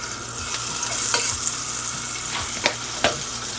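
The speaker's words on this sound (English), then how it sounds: "Then I'm gonna go in with some butter." Butter melting in a hot pan with avocado oil gives a loud, steady sizzle and crackle, close up, with a few light stirring knocks and no talk.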